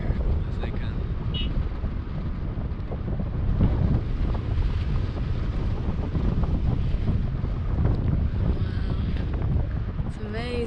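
Wind rushing past while paragliding over the Huacachina sand dunes, a constant low buffeting roar against the microphone that fills the whole stretch, with voices talking over it.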